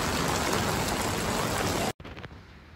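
Dense, heavy monsoon rain at Mahabaleshwar, Maharashtra pours down in a constant loud roar, breaking off abruptly near the end into quieter dripping.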